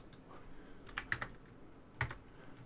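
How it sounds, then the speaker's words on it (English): A computer keyboard is typed on quietly in short, uneven bursts of key clicks, with a few louder taps standing out. "Just going to type it in."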